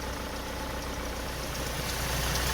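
A 2010 Ford Transit 2.2 TDCi MK7 diesel engine idles close by, a steady, even low rumble with a faint rattling texture that holds constant throughout, with no talking over it.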